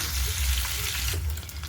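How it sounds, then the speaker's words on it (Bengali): Rohu fish pieces fry in hot oil in a pan, giving a steady, close sizzling hiss with soft crackles throughout, no talking. "মাছটা ভালো করে আমি ভেজে নেব।"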